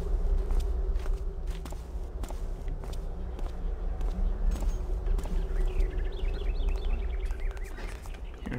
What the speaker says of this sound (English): Hearing footsteps everywhere